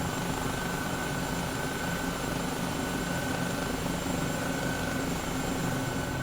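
A helicopter flying in Microsoft Flight Simulator, heard as a loud, steady engine and rotor drone with a constant high whine, unbroken and heard close up from the cockpit.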